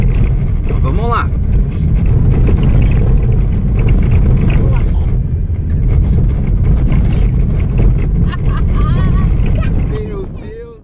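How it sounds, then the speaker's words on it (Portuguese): A 4x4 jolts over a rough, corrugated desert track in the Atacama, a loud continuous low rumble and rattle with wind buffeting throughout, and people talk over it now and then. "E vim com 4x4, porque as costelas aqui judia, viu? Treme o carro inteiro."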